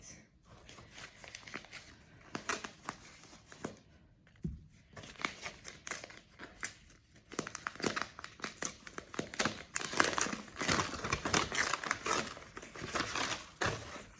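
A beautifully packaged advent calendar gift is cut and torn open at close range, with repeated snips, crinkling wrapping and paper rustling that grow busier and louder toward the end.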